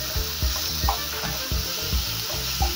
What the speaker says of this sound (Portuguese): vai refogar essa couve aqui